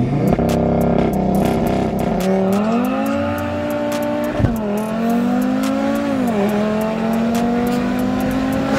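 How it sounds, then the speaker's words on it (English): A modified Audi RS3 launches hard with traction control off, the engine snarling up through a rising rev sweep with a quick shift, loud and close with no talk. "Let's see what this car really launches like."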